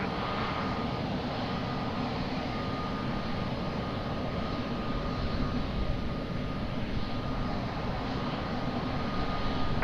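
A passenger airliner on approach to land on runway 20 at Lisbon Airport, its jet engines a steady, broad roar that swells slightly toward the end, with no voices.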